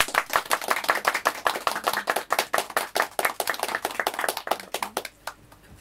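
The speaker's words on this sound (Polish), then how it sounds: "Brawa dla niej." A small audience claps for a guest at a talk event, a fairly close run of sharp, distinct claps that fades out at the end.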